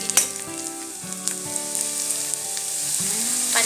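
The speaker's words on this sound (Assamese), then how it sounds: "পিঁয়াজখিনি অকণমান ভাজি লোৱাৰ পিছত এতিয়া আমি ইয়াতে হেৱালি ফুলখিনি দি দিম" Parijat flowers dropped into onions frying with green chilli in a pan for a fish dish, a steady bright sizzle with a few soft clatters as the flowers land, rising slightly toward the end.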